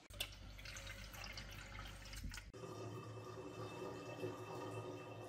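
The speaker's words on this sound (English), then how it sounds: "Fill 400 milliliters of cold water into the keg." Cold water pours and splashes steadily into a beer keg, with a brief pause midway before a steadier trickle continues; quiet, close, no voices.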